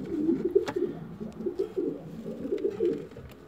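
Pigeon cooing from a young auction pigeon, a low repeated throaty burble pulsing steadily throughout, fairly close and alone with no talk.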